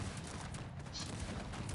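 Massed cannons firing in the real-time strategy game Cossacks 3: a dense, continuous roar of overlapping booms and crackling volleys, steady and unbroken throughout the short burst.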